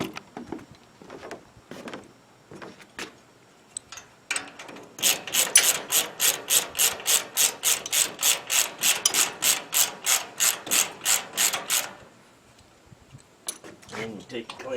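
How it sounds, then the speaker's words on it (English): A ratchet clicks rapidly in a steady run of about twenty strokes, driving a bolt down on a treestand clamp, close and crisp, framed by a few scattered knocks and brief rustles before and after. "Got the bolt to start, and I'm just using the ratchet to run it down."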